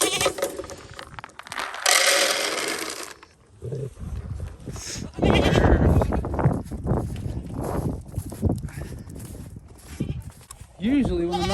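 Goats bleat loudly at feeding time on a snowy winter farm, with scattered hoof-like clatter and voices mixed in.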